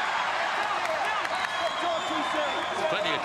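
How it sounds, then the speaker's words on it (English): Rugby crowd clapping at a Crusaders versus Reds Super Rugby match, a steady broad wash of applause throughout, with a commentator's voice running over it. "There's plenty of clapping going on."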